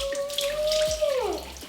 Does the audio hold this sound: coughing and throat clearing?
no